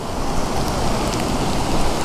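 Light rain falls at a coastal lighthouse during a storm, a steady, even hiss of drops that stays loud and close throughout with no voices.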